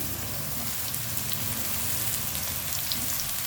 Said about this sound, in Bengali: এইবারে এই ঝিঙেগুলো আমি তেলের মধ্যে দিয়ে দেব। প্রথমে আমি ঝিঙেগুলোকে ভেজে নেব।